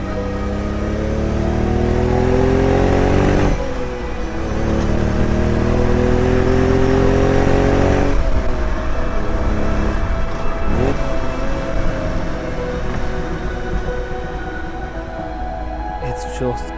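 A 1960s Fiat Dino Spider convertible being driven, its mid-pitched engine revving and rising through gears, dropping briefly at shifts, loud and close for most of the stretch.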